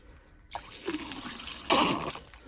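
Brief watery slurping and gurgling as a syringe draws water out of a narrow gauge steam engine, two bursts with a louder second one, close by.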